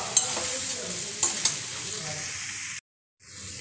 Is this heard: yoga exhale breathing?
no